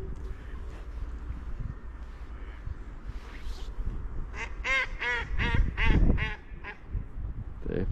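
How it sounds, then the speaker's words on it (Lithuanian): Several ducks quack in quick clusters over a steady outdoor background rumble, the calls growing louder and denser toward the middle before thinning out. "O kiek ančių."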